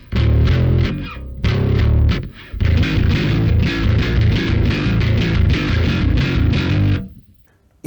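Electric guitar through a Tech21 Frank Bello StreetDriver48 pedal with gain at about half and no other effects, giving a warm, loud, gritty tone between fuzz and distortion in chugging riffs with brief gaps, then stopping near the end.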